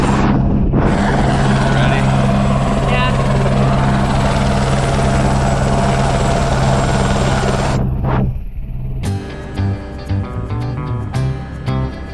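Helicopter on a glacier tour in Alaska, a loud, close rotor and engine roar that holds steady for several seconds, then cuts out as music with a beat takes over.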